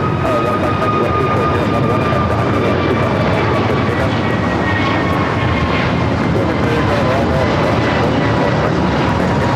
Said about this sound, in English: So we're continuously getting these south-sided takeoffs for Delta and Southwest.